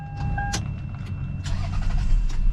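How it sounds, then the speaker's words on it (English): A 2021 Dodge Charger Magnum Hellcat wagon build of about 1000 horsepower starts up: a couple of short electronic beeps, then the engine cranks and catches into a deep, rising rumble. "we're gonna try to start the car."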